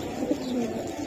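A giribaz pigeon gives a short, soft coo close by against a low background hum.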